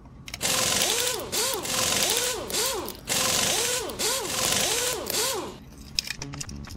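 Small screws are driven out of the case of a TL866 MiniPro chip programmer with a powered screwdriver, three loud whirring bursts with rising and falling pitch, then a faint clink as the driver stops.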